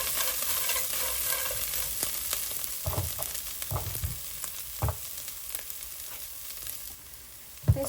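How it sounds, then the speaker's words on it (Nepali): Soybeans stir-fried in a pan give a steady close sizzle, broken by occasional scraping and knocking as they are stirred. "मजाले भुट्नु"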